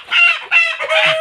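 Tiger breed hens on a poultry farm, three loud close squawking clucks in quick succession, harsh and nasal, with no talking.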